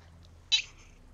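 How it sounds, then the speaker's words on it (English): Domestic cat giving a single short, high squeaky meow, close by in a quiet room, with no talking. "My cat thinks she's a dog."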